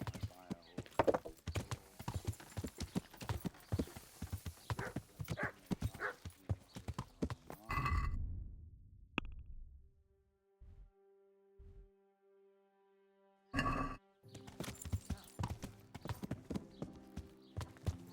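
Horse hooves clip-clop in a steady, close rhythm in the Kingdom Come Deliverance video game, fall silent for a few seconds, then resume.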